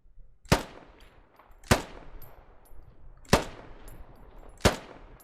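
Four sharp, loud gunshots ring out at roughly one-second intervals in the Squad video game running a Halo mod, each with a short echoing tail.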